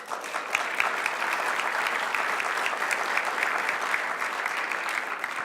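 Sustained audience applause fills a civic hall during a mayor's State of the City address, a dense, steady wash of many hands clapping at even loudness throughout with no speech over it.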